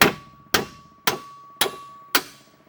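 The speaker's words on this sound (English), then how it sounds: "So I go like this with my sledge." A sledgehammer bangs on transmission parts of a 2006 Impala during removal, five loud metallic clangs evenly spaced about half a second apart, each ringing briefly before the next strike, no talk.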